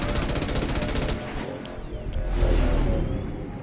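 Rapid automatic gunfire from Mass Effect 2, loud and dense, with a steady stream of shots for about a second before trailing into rumbling combat noise and whooshes, no talk.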